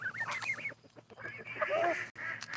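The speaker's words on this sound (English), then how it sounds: "Regular Canada Goose, hybrid Canada Goose." Canada geese, regular and hybrid, kept with chickens, give a few short nasal honks and clucking calls close by in short bursts, with gaps between.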